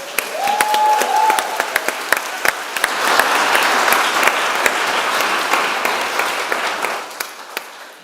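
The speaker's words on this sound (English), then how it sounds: "Give the man a round of applause." A congregation at a Winter Solstice service applauds the Oak King, steady clapping from a roomful of people with a brief vocal whoop early on and a few sharper individual claps standing out.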